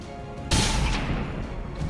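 Rapid-fire gunshots in XCOM 2: a sudden loud blast hits after a quieter lead-in, and a dense, booming volley follows and keeps ringing at high level until the end.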